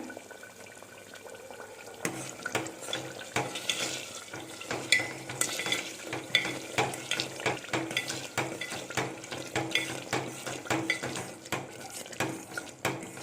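A thick curry mixed and stirred in a pan, with repeated clinking and scraping of a metal spoon against the pan over a soft sizzle, close and rhythmic.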